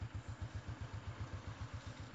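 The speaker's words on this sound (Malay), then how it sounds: "Tu ada motor ni." A motorcycle engine putters quietly in a fast, regular rhythm, like idling at a distance.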